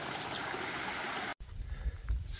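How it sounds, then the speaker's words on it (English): Small stream running on the Appalachian Trail in Tennessee, a steady broadband rush of water, then after a sudden cut a quieter trickle with low rumbling bumps from movement nearby. "Across this little stream here."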